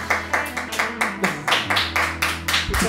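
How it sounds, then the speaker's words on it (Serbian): About a dozen separate claps land in a loose, fairly even rhythm, close and clear, with no voices over them. "Aplauz!"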